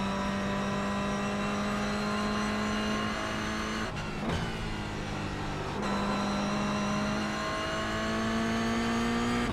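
Race car engine in the iRacing sim, a sustained high steady drone with rising pitch as it accelerates, a brief dip and shift change around the middle, then climbing again; no voices.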